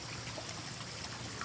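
Water trickles steadily out of a pool vacuum hose, a soft continuous splashing dribble close by with no voices.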